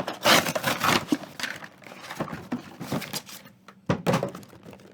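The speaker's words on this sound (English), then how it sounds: "Just gotta destroy the box, because why not?" Cardboard box being torn open by hand: a series of loud ripping, crumpling thumps and tearing bursts close up, irregular in rhythm, with brief pauses between pulls.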